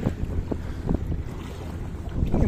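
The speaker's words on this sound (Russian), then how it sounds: "ах, какой ветер, только на воде такой ветер бывает" Strong wind roars and buffets over open river water while kayaking in a fishing kayak, with a steady low rush and gusty swells and no voices.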